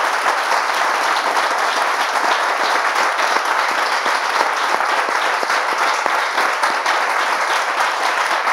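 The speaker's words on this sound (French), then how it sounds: "avec vos applaudissements, on reçoit notre premier invité qu'on va faire entrer maintenant sur le plateau" A television studio audience applauds steadily and loudly to welcome the first guest onto the set, dense clapping sustained throughout with no talk over it.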